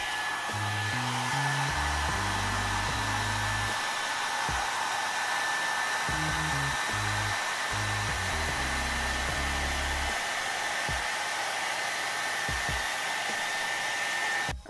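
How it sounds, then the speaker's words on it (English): A blow dryer brush whirs steadily and close, its airflow hiss constant while the motor pitch shifts and bumps in uneven bursts as it moves through hair. "This is a blow dryer"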